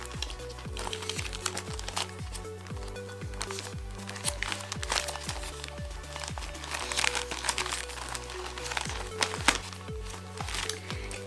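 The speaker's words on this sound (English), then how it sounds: "So I'm starting to put stickers here." Sticker sheets being peeled and pressed onto a binder make a steady run of soft crinkling and crackling paper sounds, with small taps and rustles from close by and no talking.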